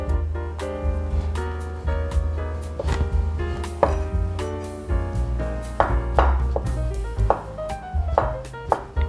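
Knife chopping two imitation crab sticks into small pieces on a board, steady irregular chops standing out over continuous background music.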